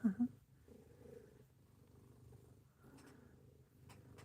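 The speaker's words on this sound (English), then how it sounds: "I don't know if you can hear her purring." A 13-year-old cat's soft, low rumbling purr runs steadily throughout, close by, with a brief louder rustle at the start.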